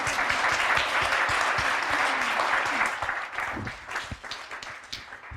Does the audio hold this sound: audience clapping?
yes